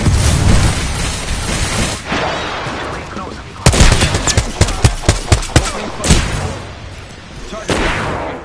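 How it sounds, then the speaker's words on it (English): Video game combat with a heavy grenade blast followed by a string of sharp, loud gunshots in irregular bursts, explosions booming between shots, with voices faintly underneath. "Threw my grenade out."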